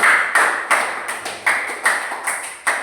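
A small class in a classroom claps together in a slow, regular rhythm, about eight sharp, evenly spaced claps, close and clear with nothing else over them.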